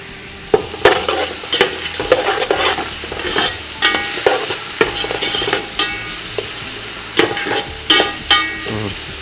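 Six torn green chillies frying in a pan for Kumbakonam kothsu, stirred with loud, close metallic scrapes and clatters repeating over a constant sizzle.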